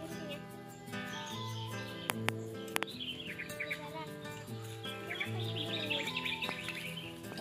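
Birds chirping repeatedly in front of a house, bright tweets and trills layered over a steady hum, with a few sharp clicks and people talking nearby.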